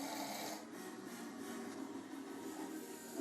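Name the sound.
very loud snoring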